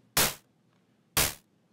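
Two sharp, noisy synth drum hits from Logic's ES2 with frequency modulation, spaced about a second apart, each a loud burst with a quick decay into silence.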